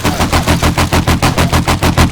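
Rapid automatic gunfire from a bugged weapon in the survival game 7 Days to Die, loud, close and continuous with an even rattling rhythm of about seven bursts a second and no voices.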